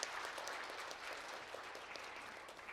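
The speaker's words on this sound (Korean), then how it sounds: "큰 박수 부탁드리겠습니다" Applause from an audience at a Korean intellectual property symposium session, a steady dense patter of many hands clapping at moderate, fairly distant level for about three seconds with no talk over it.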